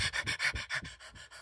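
A person imitates rapid fear breathing with quick, shallow panting, about eight even huffs in a fast rhythm, close and clear, fading slightly toward the end.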